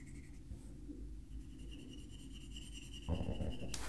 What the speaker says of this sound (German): Ich arbeite hier sehr mit der breiten Fläche meines Stiftes, weil das Papier ja doch ein bisschen rau ist